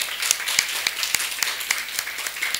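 An audience applauding for a coach at a talk on professional coaching, steady, fairly faint clapping with a few sharper claps standing out over a continuous wash of hands.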